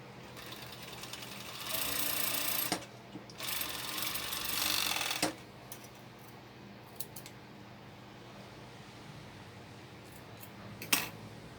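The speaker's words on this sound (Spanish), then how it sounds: "vamos a coser lo que son las partes del medio que no tienen" A sewing machine stitching pieces of a crop top, running in two loud close bursts of steady whirring, followed by quieter handling clicks and a sharp snip near the end.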